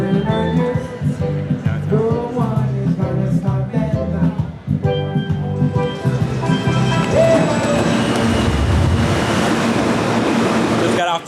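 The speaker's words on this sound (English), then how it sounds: "train, heading to meet up with Brad." A New York City train ride, with a loud continuous rumble and rattle of the car in motion, shifting tone partway through.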